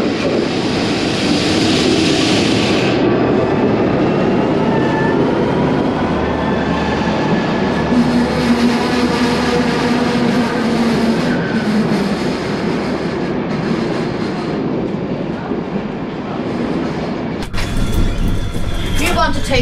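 Passenger train travelling from Drogheda to Belfast: a steady interior rumble and rolling clatter with faint tonal whines, people talking over it, and a sharp shift in the noise near the end.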